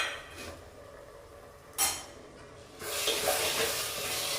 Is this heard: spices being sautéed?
yes